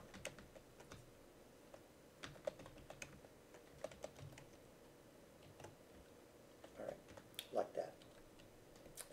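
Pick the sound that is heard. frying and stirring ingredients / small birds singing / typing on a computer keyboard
typing on a computer keyboard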